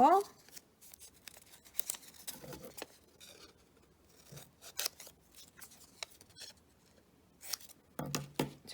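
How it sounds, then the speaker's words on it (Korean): Scissors snip through round colored paper in a series of quick, crisp cuts, close up, with rustling paper between them and a voice speaking intermittently. "선생님이 가위질을 잘못한 것 같은데"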